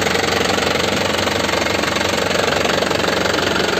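A 2010 Isuzu Panther LS Turbo diesel engine idles loudly and steadily up close, a dense rhythmic knocking clatter with constant low vibration and no pauses.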